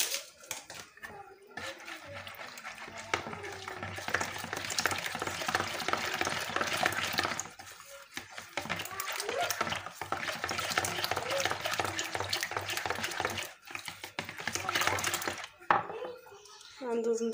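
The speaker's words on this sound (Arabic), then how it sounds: "غادا نخلط المكونات ديالنا، غندوز ندير الخميره" Brioche dough ingredients being stirred and mixed by hand in a bowl, with yeast and then flour added gradually, a steady scraping, swishing rhythm running nearly continuously, close and fairly loud, with brief pauses.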